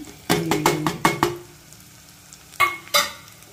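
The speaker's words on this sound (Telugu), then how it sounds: "ఇదిగోండి ఆవాలు, జీలకర్ర కూడా వేసేస్తున్నాను." Mustard seeds and cumin dropped into hot oil for tempering in a pot, with a cluster of sharp crackling pops and sizzle bursts near the start, then quieter sizzling and two more loud spits; no talking.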